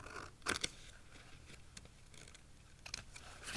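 Scissors snip along the glued edges of paper and fabric strips during a craft project, giving a few quiet, crisp cuts: a pair near the start and another pair near the end, with soft handling noise between.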